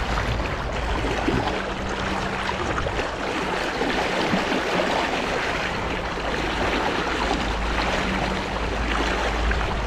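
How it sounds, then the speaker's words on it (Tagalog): A strong river current rushes steadily and loudly throughout, a continuous broadband wash with no voices. "Tawirin natin itong malakas na agos na doon."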